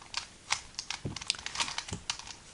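Rapid plastic clicks and clacks of a Rubik's 2x2x4 tower cube being twisted and scrambled, close and fairly quiet, in quick irregular bursts.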